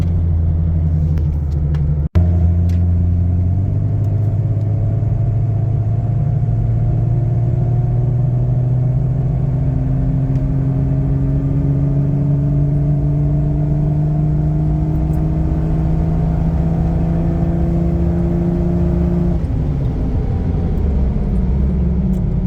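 A Jeep ZJ with a 4-liter engine pulls away and accelerates, its droning tone climbing steadily through the gear, then dropping near the end; a sharp click sounds early on, with no talk.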